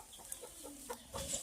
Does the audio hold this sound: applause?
no